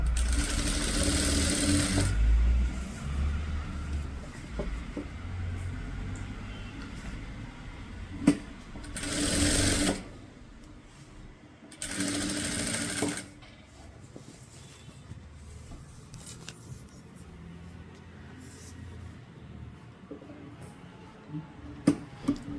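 A sewing machine stitches stone work onto a neckline in three loud, close bursts, the longest at the start, separated by quieter stretches of handling and small clicks.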